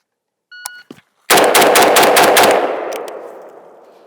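A Galil Ace rifle in 7.62x39 or 5.45x39 fires a fast string of loud, sharp gunshots at a range, preceded by short timer beeps, with the final shots ringing out into a fading echo.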